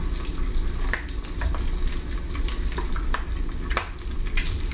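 Great Value hickory smoked bacon fries in a pan with a steady, dense crackle and sizzle, punctuated by sharper pops and spits throughout.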